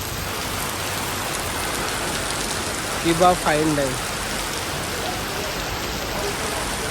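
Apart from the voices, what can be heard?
rain falling outside a restaurant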